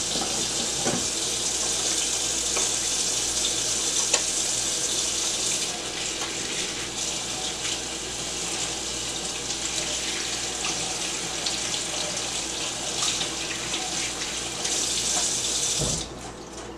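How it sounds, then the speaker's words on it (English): A kitchen tap runs steadily while hands are washed, a loud, constant stream of water that cuts off near the end. "Let me wash my hands."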